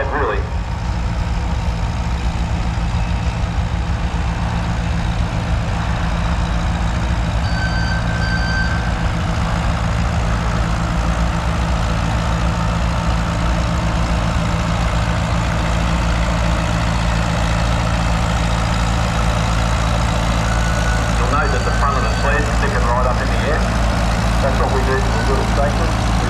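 A vintage tractor engine runs steadily at a tractor pull practice day in Korumburra, a loud low throbbing that continues unbroken for the whole stretch, close by with outdoor noise around it.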